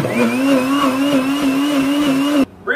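A blender whirs steadily at high speed through a strawberry banana smoothie, loud and close with a constant droning whine, then cuts off abruptly near the end.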